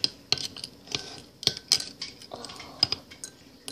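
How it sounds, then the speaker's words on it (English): Utensil stirring a gross liquid mixture in a container, a quick run of close, light metallic clinks and scrapes in an uneven rhythm, fairly quiet, with no voices. "So I'm just gonna mix it up."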